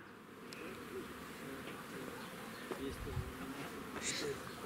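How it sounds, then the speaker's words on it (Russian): Buckfast honey bees at a crowded beehive in an apiary in Moldova, buzzing as a faint, steady hum with a few individual bees flying close by. "Пчелки."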